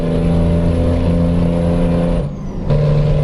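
A heavy truck engine in the ATS/ETS2 driving game holds a steady loud hum, then briefly drops away during a gear change before the drone returns at lower pitch.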